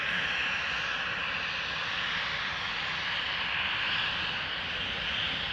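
KLM flight 1853, an airliner bound for Munich, takes off from Amsterdam Schiphol, a steady, fairly faint engine roar with a hissing upper edge, holding level throughout with no talk.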